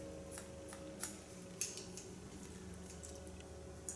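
Scissors slice-cutting hair in a salon, a few faint, sharp snips over a quiet steady hum.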